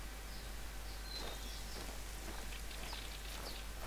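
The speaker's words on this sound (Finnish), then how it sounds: "Tääkin sataa." Steady, faint rain patters through a forest in the hunting video game The Hunter, with a constant soft hiss and scattered light drops and no voices.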